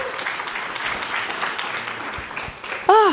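A crowd in an auditorium applauds for Celeste, a soft continuous wash of clapping at moderate level, with a brief tonal sound cutting in near the end.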